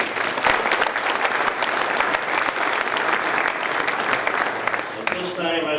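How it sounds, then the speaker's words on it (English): A conference audience at the Florida American Legion Fall Conference applauds loudly and steadily, a dense wash of clapping from a crowd that fades out near the end. "you got to give yourself a round of applause for that amount of money"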